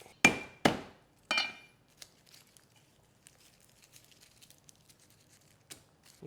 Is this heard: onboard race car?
no